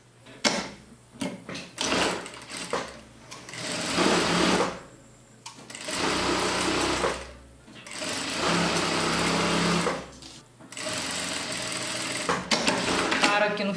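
A domestic sewing machine runs in several quick stitching bursts while sewing a fabric band onto the wrong side of a jumpsuit or blouse, separated by brief stops and handling noises.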